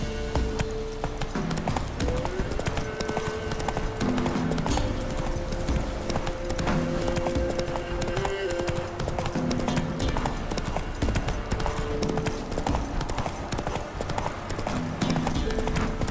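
Steady clip-clop of a horse's hooves galloping at a brisk, even rhythm in The Witcher 3, loud and continuous over a bed of game music, with a brief whinny-like cue and no talk.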